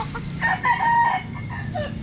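Pet chickens in a backyard flock, with a rooster's crowing and clucking calls rising over a steady low farmyard hum, several calls overlapping in close succession across the whole stretch.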